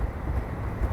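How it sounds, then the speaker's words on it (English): Wind roars into an open-visor motorcycle helmet at 35 mph, a steady low buffeting rush with gusty swells and no voice. "Visor's open, wind's rushing into the helmet."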